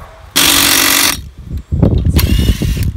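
A Makita power tool loosens the lug nuts on a car wheel in one loud, harsh burst of just under a second. Quieter clattering and handling noises follow.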